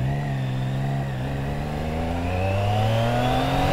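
A motorcycle engine accelerating while being ridden, its steady, close drone rising gradually in pitch throughout, with no talking over it.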